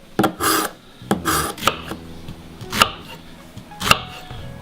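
A sharp kitchen knife chops onion on a cutting board for spaghetti bolognese, giving half a dozen crisp, irregular chops up close with brief rasping strokes between them and no voices.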